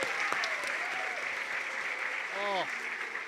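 Applause from an audience at a kindergarten musical, a soft, continuous patter of clapping heard at a distance, with a brief voice and a few whistle-like tones rising over it.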